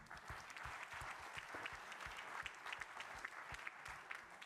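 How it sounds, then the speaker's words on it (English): A conference audience claps for a speaker in steady, dense applause that runs throughout, fairly faint and distant, with no talking over it. "Please join me in giving a round of applause to Femke"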